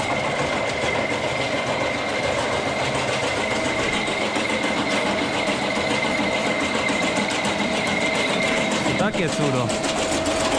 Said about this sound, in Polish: Zaraz odpalamy maszynę.